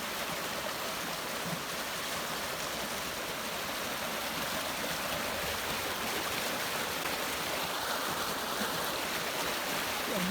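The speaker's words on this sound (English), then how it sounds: "Water flowing through there." Steady rushing water of a stream flowing continuously, a broad even wash of sound with no voices.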